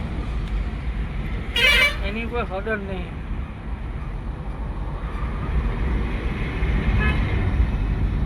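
Busy road traffic with vehicles rumbling past and a loud horn honking once, then a fainter horn later, while someone talks over the noise.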